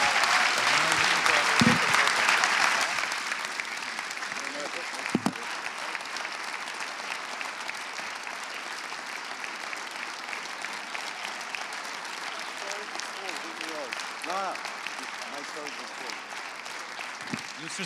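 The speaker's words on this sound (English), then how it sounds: "And now, big applause" Sustained crowd applause, loud at first and settling into steady clapping that continues throughout, with faint voices scattered underneath.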